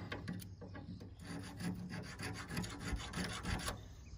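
Repeated rasping file strokes sharpen a tree-shearing blade used on 5 to 8 foot Concolor fir, a steady close scraping rhythm with no talk.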